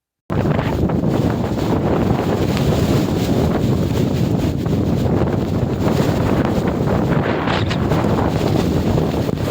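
Strong wind roars across the Kodachadri hilltop, a loud, unbroken buffeting rush that batters the microphone from start to finish.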